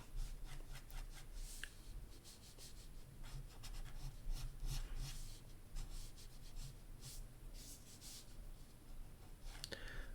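A dried-out brush marker sketches on paper, giving faint, dry scratchy strokes in quick, uneven bursts with soft rubbing between them.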